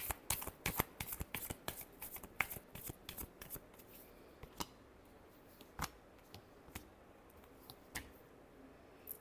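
Tarot cards shuffled by hand, quiet crisp riffles and slaps in uneven bursts, faster at first and then spaced out, with no talking.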